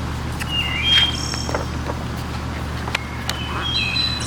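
A small yellow bird chirps in a few thin, bright, brief calls over a steady low background hum, fairly faint and spaced out.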